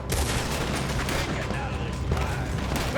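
Heavy gunfire during a Red Dead Redemption 2 shootout, a dense, loud, continuous barrage of overlapping shots with sharp bursts, running steadily throughout.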